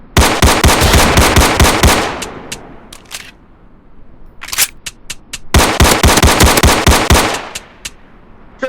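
Rapid automatic gunfire in a VR shooting game, two long loud bursts of quick shots separated by a few scattered single shots.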